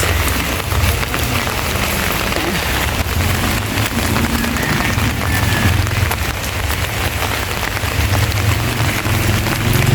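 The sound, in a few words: rain falling on street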